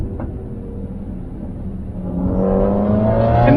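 Ford Mustang Mach-E electric car accelerating off the line, heard from inside as a low rumble under a steadily rising electric whine that grows louder over a few seconds.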